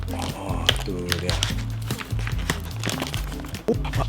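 A plastic ziplock bag of brownie chips being opened and handled, with close crinkling and rustling bursts over a steady rhythmic bed of background music.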